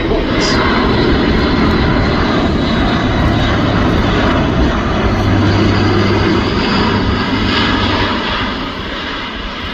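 A Luftwaffe Airbus A400M military transport with its undercarriage extended passes overhead during a display, its turboprop engines giving a loud, steady, broadband roar that fills the whole span and eases slightly near the end.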